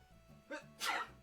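A single person sneezes close by, a short breathy intake followed by a sharp, noisy burst, fairly quiet overall.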